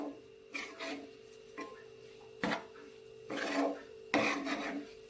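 Eggplant mixture is stirred with green onion leaves, giving short rasping scrapes of a spoon against a pan that come in about six separate strokes over a quiet background.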